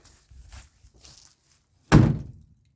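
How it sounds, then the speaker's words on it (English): A single solid thunk as the door of a 1956 Chevy 150, long parked since 1979, is swung shut, close and loud after a few seconds of faint shuffling, with no rattle afterward. "listen to how the door closes here"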